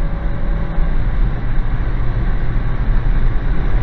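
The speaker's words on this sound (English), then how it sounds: "A bit noisy because I've got the back windows open." Steady broadband wind rush and low road rumble fill a moving car with its back windows open, a constant loud roar with no speech over it.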